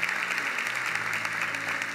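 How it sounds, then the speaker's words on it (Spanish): A church congregation at a special marriage service applauds steadily and warmly throughout, a thick wash of clapping from many hands with a faint low tone underneath. "Fuerte aplauso, por favor"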